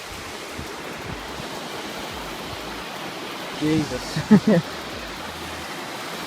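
A river rushes in a steady, broad roar of flowing water that fills the whole stretch, while a person briefly exclaims partway through.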